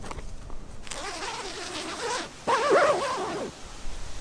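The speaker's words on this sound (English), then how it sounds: "The zippers are well working, and you can see they have made this detail so it's very easy to use them with the gloves on" A zipper on a Fjallraven Abisko Shape 3 tent is drawn in two rasping pulls, each with a rising and falling whine, close up and fairly quiet.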